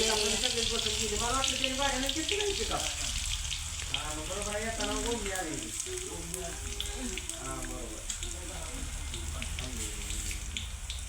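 Garlic sizzles and spits in hot oil in a pan, a steady crackling frying sound that carries through the whole stretch with someone talking over it.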